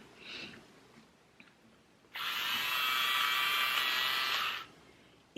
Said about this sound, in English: It's a clothes shaver.